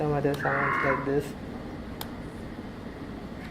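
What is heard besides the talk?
synthesized sound resembling a frog or night owl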